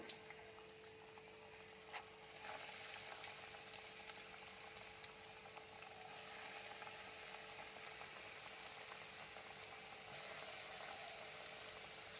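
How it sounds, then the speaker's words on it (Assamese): Chicken chops frying in hot oil over a low flame, a steady, faint bubbling sizzle that carries on evenly with a few soft clicks, no voices. "এইখিনি এনেকৈ গোল্ডেন ব্ৰাউন হোৱালৈকে আপুনি ভাজি থাকিব"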